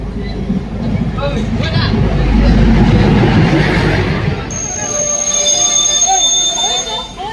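At a railway station, a train rumbles loudly past at close range, then its wheels squeal with high, sustained metallic whines, while people murmur in the background.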